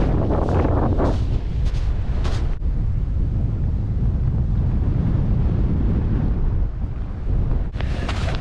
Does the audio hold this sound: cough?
no